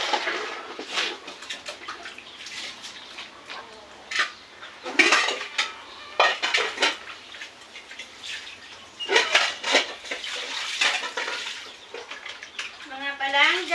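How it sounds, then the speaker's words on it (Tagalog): Dishes being washed, with plates, pots and cutlery clinking and clattering in irregular bursts close by, alongside running water and a voice speaking now and then. "Hugas tayo ng plato"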